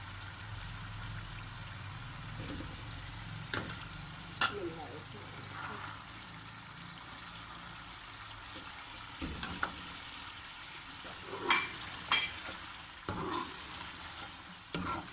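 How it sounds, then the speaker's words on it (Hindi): Chickpeas tumble into a pan of fried potatoes and sizzle steadily while being stirred, with scraping clatters and louder bursts of frying. A voice talks softly underneath. "ये आलू की मैंने अच्छी सी भुनाई की है। अब मैं इसमें डालने जा रही हूँ चने।"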